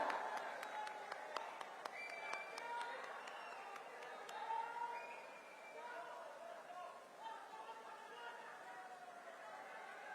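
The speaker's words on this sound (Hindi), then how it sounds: "देवी और सज्जनों, जोरदार तालियां हो जाए।" Audience clapping at a bhoomi pujan ground-breaking ceremony in Greater Noida, beginning with a few sharp claps and settling into a faint, steady patter of applause under crowd murmur.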